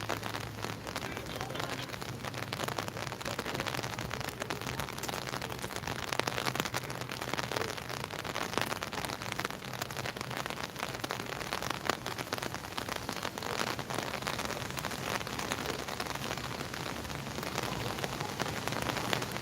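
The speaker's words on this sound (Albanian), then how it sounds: "Shiu ka filluar sërish." Steady rain falling and pattering on the streets of Berat, Albania, a dense continuous hiss that stays even throughout.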